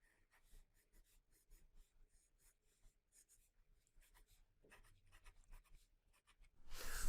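A pencil sketching tall, skinny triangular pine trees on paper gives soft, close scratchy strokes in quick rhythmic bursts, with a louder rustle at the very end.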